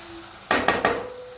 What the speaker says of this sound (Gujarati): સરસ આપણે મસાલાને સોતે કરી લઈએ